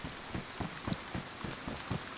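Steady rain falls in a modded video game map called Valning, a soft continuous patter with a rhythmic run of gentle thuds, fairly quiet, with no talking.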